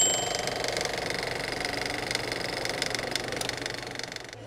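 A hand-cranked press squeezes roasted cocoa nibs with a continuous, even mechanical whirring and grinding that runs steadily close up, with no one talking.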